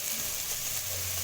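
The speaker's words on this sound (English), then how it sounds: "So I stir that and let that cook." Red peppers and other bell peppers stir-frying in a pan, a short, steady, fairly loud hiss of sizzling with a faint low hum beneath and no talking.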